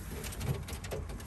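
A pair of pigeons coo softly during pairing in a loft, with a couple of low murmuring coos against a faint background.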